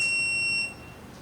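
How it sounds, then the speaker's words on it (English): A Tuya smart video doorbell keypad gives one long, steady electronic beep lasting just over half a second, loud and clear, then falls away to quiet room tone. "Double long beep sound will be heard."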